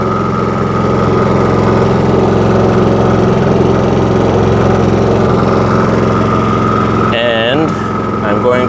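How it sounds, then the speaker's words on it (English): A Champion 4500/3500 watt inverter generator, model 201053, runs steadily nearby with a loud, even engine drone and a constant hum. Near the end there is a brief warbling shift, and there is no talk. "the generator has been running for about 5 minutes"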